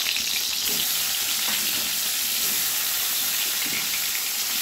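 Hilsa fish frying in hot mustard oil in a wok over a medium flame, giving a loud, steady, dense sizzle that fills the whole stretch with no talking.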